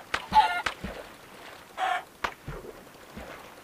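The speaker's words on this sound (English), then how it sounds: "They should sound like chickens." Clucking chicken calls from a modded Minecraft mob in the video game, several short separate bursts at a moderate level with quiet gaps between them.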